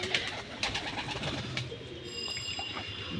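Pigeons cooing steadily and close by, a soft repeated throaty call with a faint high tone entering partway through, and no talking.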